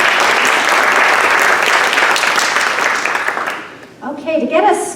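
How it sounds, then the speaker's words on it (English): A housing summit audience gives the panelists a warm round of applause, dense steady clapping from many hands that tapers off before a speaker begins talking. "So please give them a warm round of applause."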